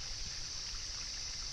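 River water flows over rock on a steep uphill stretch, a steady rushing stream heard close and continuous with a persistent high hiss, no voices.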